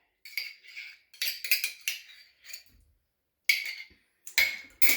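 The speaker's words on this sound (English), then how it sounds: "And just whisk." A whisk beats salad dressing made with essential oils in a bowl, giving short bursts of brisk clinking and scraping that stop and start, close and fairly quiet, with no talking.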